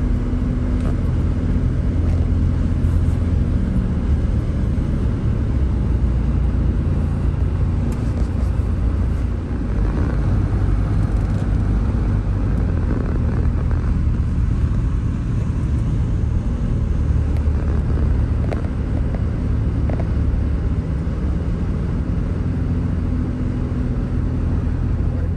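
A 1987 VW Vanagon Syncro Westfalia bus cruising down a country road gives a loud, steady engine and road rumble that runs unbroken throughout.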